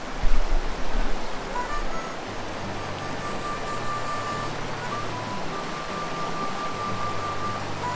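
Rushing river water at a crossing on the Ramona Falls trail near Mount Hood, a steady broadband roar filling the scene from start to finish, with a brief louder thump early on and no speech.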